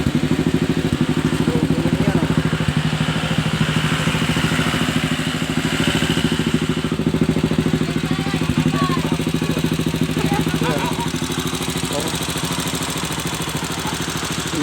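A homemade motorbike fitted with car tyres idles nearby with a steady, rhythmic chugging that lasts throughout, while faint voices talk in the background.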